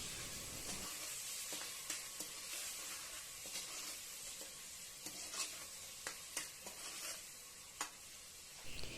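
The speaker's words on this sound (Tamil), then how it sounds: "உப்பு சேர்த்துட்டு கொஞ்சமாக மஞ்சத்தூள் போட்டு நல்லா கிளறிக்கலாம்." Tomatoes frying in a pan with salt and turmeric, stirred: a steady close sizzle with repeated scraping clicks from the spoon, quiet and alone.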